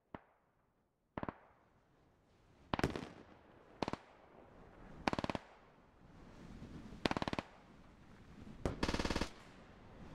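Long-range gunshots in the video game Squad, a series of sharp distant cracks spaced a second or two apart, each ringing with a rolling echo, ending with a quick burst of several shots.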